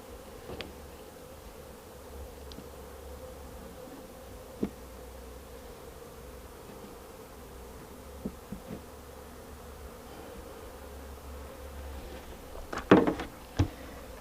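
Honeybees buzzing steadily around a hive box thick with propolis, a constant close drone with a few sharp knocks and scrapes near the end as the cover is slid into place.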